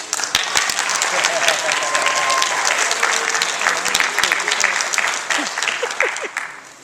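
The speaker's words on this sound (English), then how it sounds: "give them a round of applause" A large crowd at a graduation ceremony gives sustained, dense applause that fills the room, then tapers off as a few people talk.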